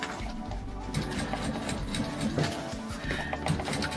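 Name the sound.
sewing machine stitching a bag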